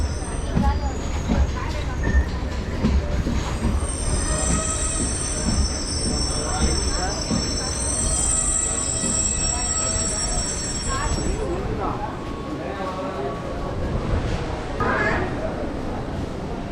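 MEMU local train from MGR Chennai Central to Tiruttani running on rails, a continuous loud rumble of wheels with sustained high squealing from the rails, heard from on board.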